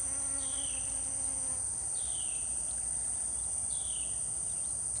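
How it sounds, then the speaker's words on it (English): A bee buzzes around gourd blossoms in a garden while pollinating, a low drone that rises and falls as it moves, backed by a steady high insect whine and faint bird chirps. "we've got a little friend buzzing around pollinating"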